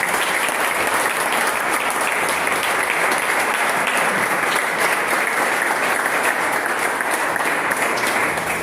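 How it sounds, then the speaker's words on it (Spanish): A large church congregation applauds continuously, a dense, even roar of clapping that holds steady at full strength from start to finish. "Levanten un aplauso al Señor."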